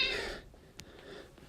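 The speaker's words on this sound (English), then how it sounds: "Sorry if you hear my cat in the background." A pet cat meowing somewhere in the background: a faint, breathy meow at the start, then a quiet room with a small click and soft rustling.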